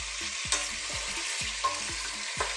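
Chicken pieces for a garlic chicken stew sear in a hot pan with a steady broadband sizzle, punctuated by three light utensil scrapes or stirs; no one speaks.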